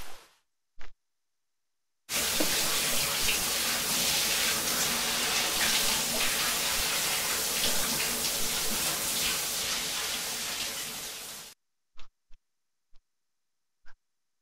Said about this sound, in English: I'll take a shower. Yeah, shower time.